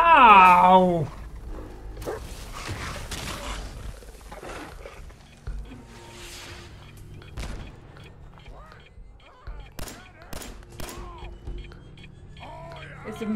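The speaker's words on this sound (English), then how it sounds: "The dogs." Dogs bark and whimper inside the game Fallout 4, in a busy, cluttered mix where a loud yelp opens and shorter animal cries and gunfire-like bursts follow, with voices talking over the action.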